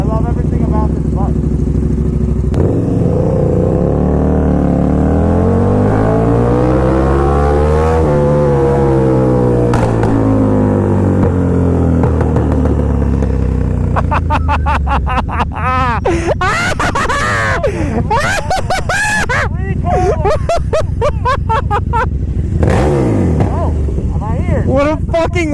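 A Ducati XDiavel S motorcycle engine revs hard through rising and falling gear sweeps during a power wheelie, loud and close, with sharp throttle blips and pops toward the end.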